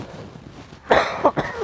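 A short burst of coughing, two or three rough coughs close to the microphone after a quiet stretch of soft background noise.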